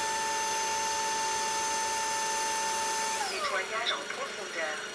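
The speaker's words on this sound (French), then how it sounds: "la brosse se nettoie. Toute l'eau est réaspirée et on le retrouve dans le bac récupérateur" A Proscenic F20 cordless wet vacuum runs its self-cleaning brush cycle, a steady high motor whine that shifts partway through into a rougher, gurgling suction as water is drawn back up.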